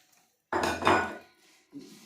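A metal cooking pot being scraped and scrubbed clean in a home kitchen, one loud clattering scrape burst followed by a softer second knock, fairly close.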